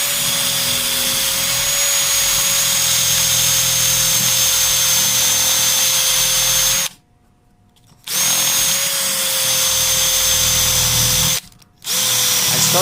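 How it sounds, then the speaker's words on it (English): A cordless drill with sandpaper whines loudly and continuously, grinding and polishing a 12G940 cylinder head for a 1963 Austin Healey Sprite, stopping abruptly twice for short silent gaps before starting again. "I'm just going to use this cordless drill for now"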